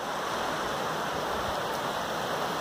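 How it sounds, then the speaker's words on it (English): Shallow, crystal-clear mountain creek flowing over rocks in a canyon, a steady close rushing and babbling wash that runs alone and unbroken. "it's a beautiful creek. It's shallow, it's crystal clear water"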